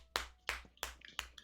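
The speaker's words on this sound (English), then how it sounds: "Round of applause, Heefus" Five sharp, sparse claps at a slow, even rhythm, close and fairly quiet, alone with no talking.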